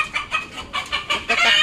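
Backyard chickens cluck in a quick series of short, close calls, rising a little in loudness toward the end.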